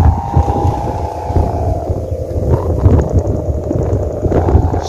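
Strong outdoor wind roars steadily into the microphone, a dense rumbling buffet that never lets up, with faint swells and gusts across the whole stretch and no talking.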